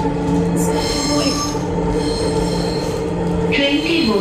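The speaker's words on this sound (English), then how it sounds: "The train is moving." A metro rail train rolls along its track, wheels squealing in high-pitched screeches over a steady loud rumble, heard close from inside the carriage, with a few brief shrill squeals rising toward the end.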